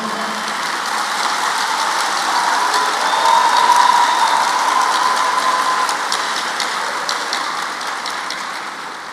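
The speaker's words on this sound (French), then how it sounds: "Votre applaudissement m'invite à le redire" Graduates and guests at a university graduation ceremony in Haiti give a dense, continuous crackle of applause during a speech by the UNIFA president, loud and steady, swelling slightly midway and easing toward the end.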